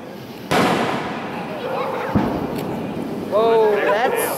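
Fourth of July fireworks ahead of the grand finale, with a sharp burst, a crackling pop and whistling, rising streaks over a steady roar of the crowd and nearby excited voices.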